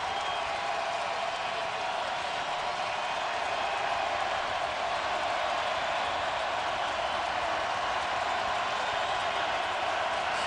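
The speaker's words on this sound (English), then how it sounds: "Sellout crowd in Nashville trying to help the defense" A sellout crowd at an NFL game in Nashville roars steadily and continuously across the whole stretch, a dense, even wash of cheering with no breaks or distinct peaks.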